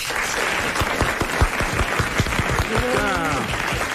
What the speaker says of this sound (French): Vous applaudissez Monsieur Beaumatin.